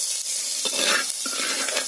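Hot oil sizzles and crackles steadily in a pan before cauliflower goes in to fry, a close, bright hiss with occasional scraping stirs.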